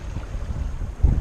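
Strong wind buffets a sailboat running downwind, a steady close rumble of gusts against the microphone with a louder thump near the end.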